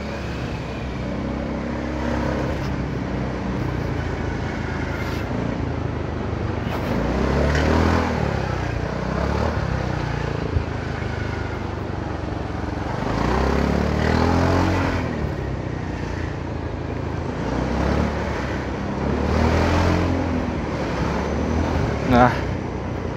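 Honda Forza 300 scooter ridden on a road amid traffic, its engine droning steadily with brief throttle surges and passing vehicles, while a rider talks over it.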